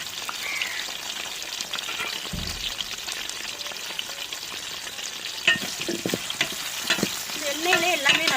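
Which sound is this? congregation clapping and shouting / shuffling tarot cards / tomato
tomato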